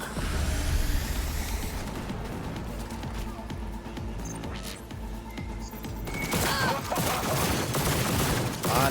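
Dense rifle gunfire from the video game Cyberpunk 2077, rapid overlapping bursts and crashing impacts that stay loud and continuous throughout, swelling into an even busier barrage near the end.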